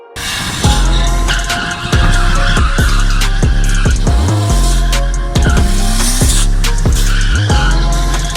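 A C33 Nissan Laurel drift car with an RB25 engine skids through repeated tire squeals at a drift event, loud and close, with bursts of screeching rubber and revving engine filling the whole stretch.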